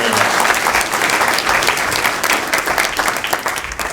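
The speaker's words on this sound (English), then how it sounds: "Let's give Bob a round of applause." Audience applause breaks out after a fireside chat at iHub in honour of the guest, a dense steady clapping from a room full of people that tails off slightly toward the end.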